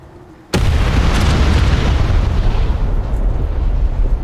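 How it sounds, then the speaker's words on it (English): An artillery strike in War Thunder's naval battles lands with a sudden loud blast, then a sustained rumbling roar of overlapping explosions fills the rest of the stretch at close range. "That's a cool artillery strike, I have to say."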